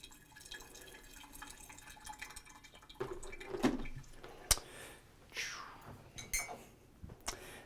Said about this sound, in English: Just enough to wet the filter all the way around.